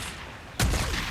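One sudden loud gunshot blast in the game Days Gone, close and sharp, breaking through a dense background of game noise and fading quickly.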